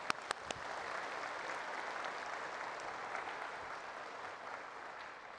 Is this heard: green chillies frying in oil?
no